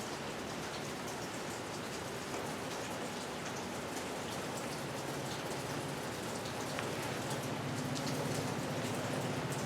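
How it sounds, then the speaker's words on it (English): Rain pours steadily outside, a dense, even patter of drops on surfaces that holds at a constant level throughout, heard from indoors and faint, with no talk. "Do you see how much it's raining?"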